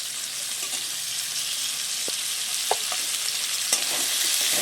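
Pointed gourd and potato frying in oil, a steady sizzle with occasional sharp clicks and scrapes of a spatula as the pieces are stirred.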